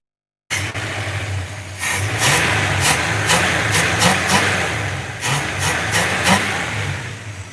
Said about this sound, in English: We'll give it a little throttle so you can hear it run from under the hood here.